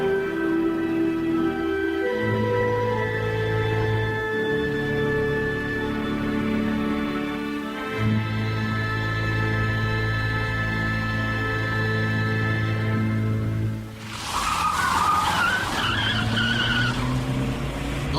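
A car speeds in a chase with a sustained engine roar and long tire skids in a spy drama sound effect, loud and unbroken, then ending in a harsher burst of screeching.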